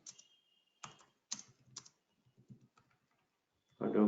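A short burst of computer keyboard typing: a quick cluster of key clicks, then a pause and a few soft scattered taps, close and quiet with no speech, ending in a louder rustle.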